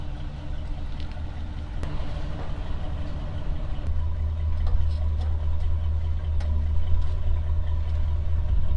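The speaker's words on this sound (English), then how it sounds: "the truck just pulled up and he's gonna tow away all the dirt" A truck's engine idles steadily with a low, continuous rumble at a residential basement dig-out site, where it has pulled up to haul away dirt, holding fairly loud and constant throughout with faint clanks around it.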